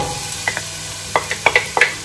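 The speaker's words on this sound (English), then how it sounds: "love that sizzle, it just makes me happy." Diced onion sizzling in a hot pot, with several sharp stirring scrapes and clinks against the metal, close and fairly loud, no voices.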